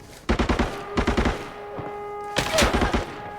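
Two quick bursts of rapid gunfire in the video game Arena Breakout, then a lone shot and another burst, loud and close with sharp repeated cracks.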